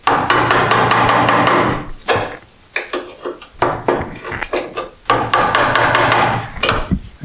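Metalwork on the rear deck of a Triumph TR4 under repair, heard as bursts of sharp, rapid metallic hammer-like taps and pops in quick runs, close and loud, separated by short gaps with scraping.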